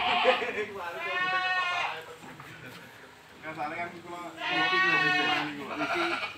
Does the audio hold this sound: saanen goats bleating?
yes